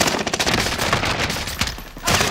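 Heavy automatic gunfire in a video game, loud and dense rapid bursts that run almost without a break, briefly dip near the end and then start again, with no talking.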